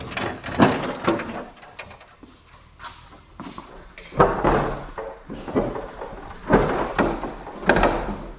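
A sliding hangar door in an aircraft hangar rumbles and clatters along its rails in repeated heavy pushes, with bangs and scraping surges close by.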